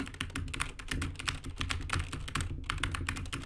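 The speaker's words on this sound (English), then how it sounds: "I'm just gonna start typing" Rapid, steady typing on a computer keyboard, a continuous stream of close, distinct key clicks with only a brief pause partway through.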